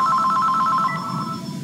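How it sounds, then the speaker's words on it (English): A telephone rings loud and close with a rapid electronic trill that cuts off partway, followed by a faint low hum, no voices. "Well, I got to answer the phone now."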